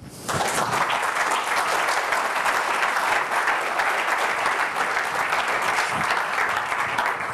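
A studio audience welcomes a guest with loud, sustained applause, starting abruptly after a brief pause and holding at a dense, even level until the end.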